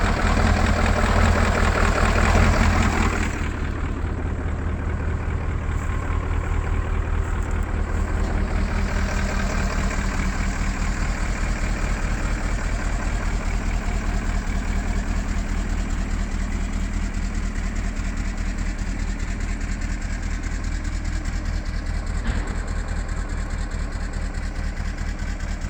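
An engine idling steadily, a close, even low rumble that runs for the whole stretch, slightly louder at the start before settling, with no talking.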